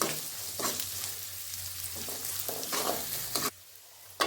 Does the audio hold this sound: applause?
no